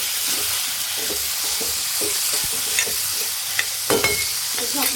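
A spoon stirs dried bitter gourd curry in a hot frying pan, steady sizzling with repeated scraping strokes and a few sharper clinks, close and fairly loud, no talking.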